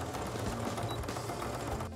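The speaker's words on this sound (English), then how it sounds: "I have a nice new sewing machine," A new sewing machine runs continuously with a steady, close mechanical whir and rapid ticking of its needle mechanism, without pause.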